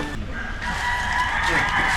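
A rooster crows close by in a long drawn-out call beside a house, with other chickens clucking faintly and a voice murmuring low in the background.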